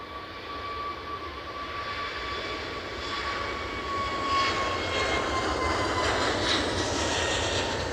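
Airliner approaching to land at Edinburgh airport over the Firth of Forth, a loud, steady jet engine roar with a thin whining tone, swelling slightly as it passes overhead with no talking.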